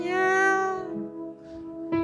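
A person imitates a cat meowing outside a door to be let in, a long drawn-out meow followed by a shorter rising one, close and clear with no other talk.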